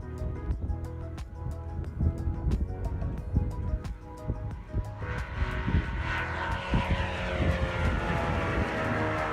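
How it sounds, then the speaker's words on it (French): Light training aircraft at a ULM microlight airfield in Montpezat d'Agenais on a windy day, a steady propeller engine drone with rising and falling pitch as the plane flies nearby, no talk. "Un avion d'école, un autre atterri, un autre d'école"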